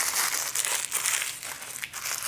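A sheet of parchment paper is crumpled up by hand, a continuous close crackling crinkle with small sharp bursts, heard alone.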